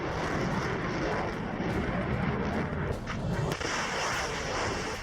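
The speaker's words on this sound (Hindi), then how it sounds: "और फिर निकली पांचवी मिसाइल" A missile launch roars in a broad, continuous rumbling blast, loud and sustained over several seconds, with a slight dip and shift in texture partway through.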